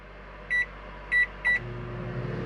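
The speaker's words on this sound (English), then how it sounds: "The microwave works." A microwave oven aboard a 1992 Sea Ray 380 Sun Sport boat gives three short beeps, then settles into a low, steady running hum.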